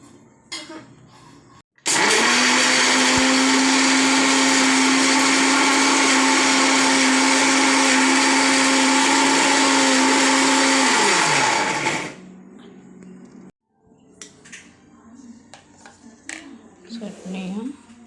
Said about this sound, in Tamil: தேங்காய் புதினாலாம் மிக்சியில் போட்டு சேர்த்துட்டு அரைக்கணும்.